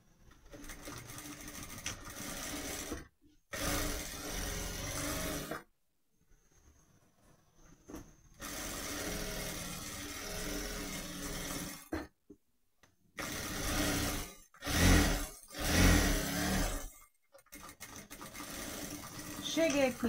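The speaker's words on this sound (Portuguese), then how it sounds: "E vou passar a costura aqui." A sewing machine stitches elastic onto a pair of shorts in several separate bursts of whirring, near and fairly loud, broken by silent pauses and brief handling noise.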